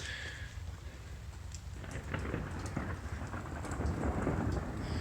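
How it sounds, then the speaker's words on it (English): Steady rain patters while low thunder rolls and builds in the background, growing louder toward the end. "More thunder."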